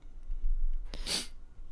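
A single sharp sneeze bursts out close to the microphone after a brief breathy intake, with a quiet low rumble around it.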